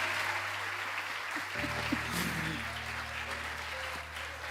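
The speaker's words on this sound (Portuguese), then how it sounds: "Aplaude a Jesus de verdade aí," A church congregation claps steadily at a moderate distance, with a low electrical hum beneath and a few brief knocks partway through.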